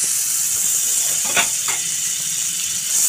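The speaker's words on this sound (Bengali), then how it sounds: "আমি চাটুর মধ্যে একটু বাটার দিয়ে দিচ্ছি" Butter melts on a hot griddle (chatu) while a hot dog is being made, giving a steady, close hiss and sizzle with a couple of faint spattering pops.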